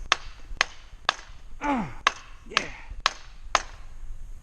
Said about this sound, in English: Always need 1 person holding while the other hammers the stakes in.